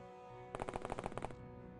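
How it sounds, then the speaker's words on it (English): Bolter fire in the turn-based strategy game OpenXcom with the Warhammer 40k mod, a single short burst of about eight rapid shots over a steady low hum, fairly clear and brief. "we have some bolt fire"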